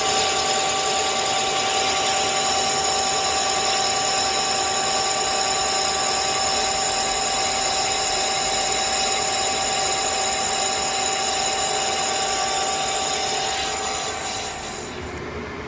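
A metal lathe cuts a 316 stainless steel plate for a flange, giving a loud, steady machining whine and hiss that holds for about fourteen seconds before tapering off.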